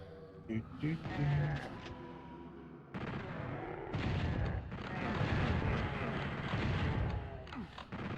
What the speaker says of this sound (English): There's a shotgunner somewhere shooting at me and I can't figure out where they are